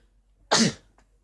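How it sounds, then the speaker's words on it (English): A single sharp human sneeze bursts out suddenly in a quiet room during a live stream, brief and fairly close. "Wait, sneezing."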